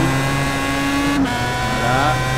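A race car engine at full throttle at Brands Hatch in a racing video game gives a loud, continuous high-pitched whine with a brief pitch dip before it climbs again.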